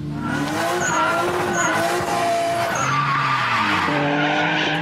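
A drift car slides through a drift competition run, its tires squealing in a loud, unbroken skid with engine tone rising and falling throughout; no voices.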